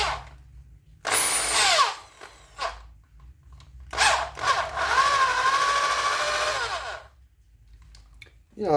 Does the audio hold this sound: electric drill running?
yes